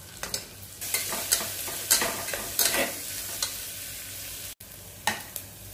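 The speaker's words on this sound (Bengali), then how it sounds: "এবার আদা কুচি, রসুন কুচি এবং রসুন যেটুকু ঘষে নিয়েছি সবটা দিয়ে দেবো একসাথে।" Chopped ginger and garlic fry in a pan, close-up sizzling broken by repeated scraping stir strokes that come in uneven bursts, with a brief pause near the end before stirring resumes.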